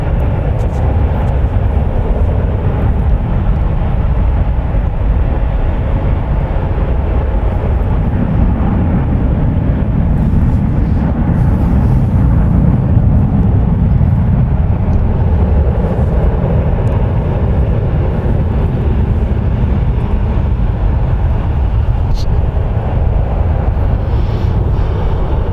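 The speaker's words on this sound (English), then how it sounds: "there's another departure. United Airlines Flight 1212 going to PVR. It's an Airbus A320," A 22-year-old United Airlines Airbus A320 departing at San Francisco International Airport gives a steady, broad jet roar that swells and then eases as it climbs away, heard from a distance with no voices over it.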